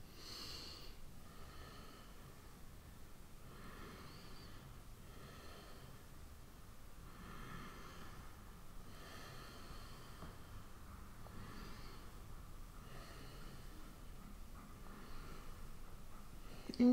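Slow, steady breaths in and out during a gentle seated twist in prenatal yoga, about eight soft, close exhalations spaced evenly with quiet pauses between them.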